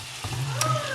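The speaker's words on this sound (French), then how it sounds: "mes carrés de patates douces que je suis en train de faire revenir dans de l'huile d'olive" Sweet potato cubes frying in olive oil in a pan, a steady close sizzle with a brief stir scrape partway through, no voices.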